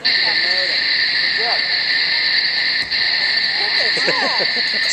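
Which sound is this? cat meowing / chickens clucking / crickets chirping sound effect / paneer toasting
crickets chirping sound effect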